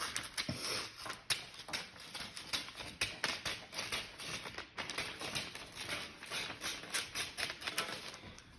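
Scissors snip across a sheet of paper along a dotted line, a steady run of quick crisp cutting clicks and rustles, close and fairly quiet, with no one speaking.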